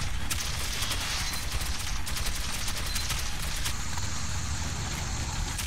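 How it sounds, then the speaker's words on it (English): Machine gun fire in the Metro 2033 Redux video game: a dense, continuous rattle of rapid shots, loud and unbroken for several seconds, with little else audible. "The gun is overheating"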